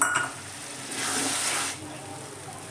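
Spice masala cooking in oil for chicken liver and gizzard fry just after the remaining water goes in, a soft hissing bubble that swells for a moment then settles, close and fairly quiet.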